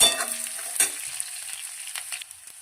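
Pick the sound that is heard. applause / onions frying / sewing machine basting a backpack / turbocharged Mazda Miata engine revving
onions frying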